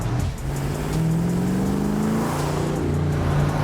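A Mercury car with a 4-speed transmission runs with a steady, deep engine note that rises as it revs, holding loud and close throughout.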